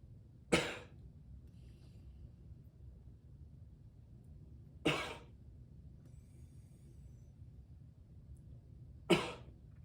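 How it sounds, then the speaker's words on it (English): Three sharp coughs spaced evenly several seconds apart, each a short burst standing out from a quiet, low background hum. "So big breath in through the nose and then cough."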